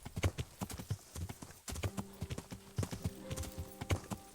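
Horse hooves clop steadily on the ground in the video game Kingdom Come Deliverance, with close, rhythmic footfalls and a faint tonal ring joining partway through. No one speaks.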